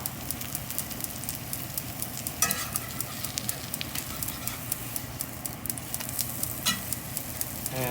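Tortillas frying in hot oil in a pan for enchiladas, a steady close sizzle with scattered crackles and pops throughout, no talking.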